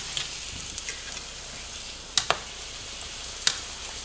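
A taco frying in a pan, a soft steady sizzle with a few sharp clicks and taps from turning it, close and fairly quiet, no talk.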